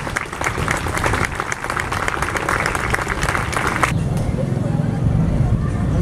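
Crowd at an outdoor event in Naolinco, Veracruz, applauding loudly and steadily, with dense clapping that cuts off near the end and leaves a murmur of voices and traffic in the background.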